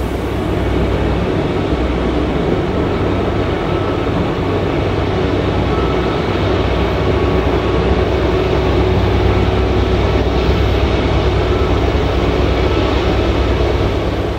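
A loaded Canadian Pacific grain train approaches, working hard up a 1% mountain grade, its locomotives producing a loud, continuous low roar and rumble that builds steadily without any voices.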